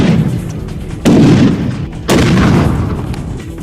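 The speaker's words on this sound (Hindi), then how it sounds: "उन्होंने ताबड़तोड़ इतने मोर्टर दागे" Mortar rounds fired in battle footage from the Yemen conflict: two loud, deep booms about a second apart, each followed by a rumbling tail, with no talk.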